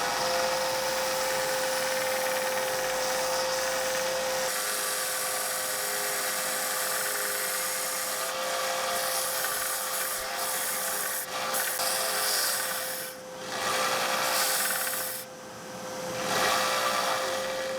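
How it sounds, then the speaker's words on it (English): Wood is sanded on a powered sander for a one-day build with the lightest and darkest woods, a steady close rasping hum with a constant tone, the scratchy friction swelling and fading in bursts. "Let's just sand to it."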